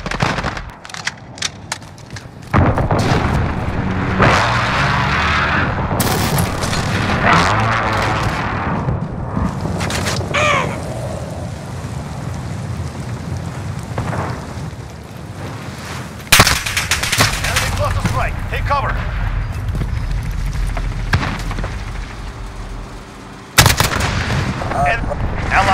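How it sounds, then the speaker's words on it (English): Heavy blasts and crackling gunfire fill a Call of Duty: Modern Warfare match as a precision airstrike hits, with several loud booming impacts standing out over dense, continuous battle noise and occasional game voice callouts. "Allied precision airstrike in care package beware. Inbound."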